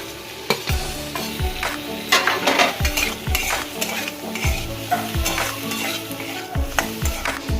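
Chopped tomato and cashew nuts frying in a pan for butter paneer masala, a loud close sizzle with repeated scraping and clattering strokes of a spoon stirring against the pan, no voices.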